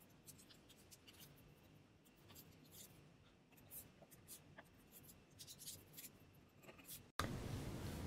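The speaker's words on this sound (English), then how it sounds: "I'm simplifying that by using post-it notes, putting them at every corner, and writing a number on them." Pen scratching numbers onto post-it notes, quiet close-up strokes and short scribbles in an irregular rhythm over faint room noise, with a louder rushing noise cutting in at the end.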